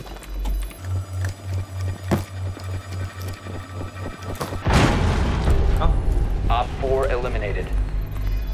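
A bomb explodes when a player steps on it in the tactical shooter Rainbow Six Siege: steady game footsteps and a low hum, then a sudden loud, close blast that rumbles on with debris and game effects.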